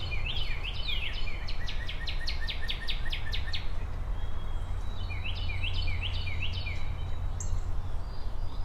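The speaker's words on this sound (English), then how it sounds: "white-throated sparrow singing" White-throated sparrow singing clear, whistled high phrases in two bursts, with other birds chirping and a steady low hum of insects or background noise underneath.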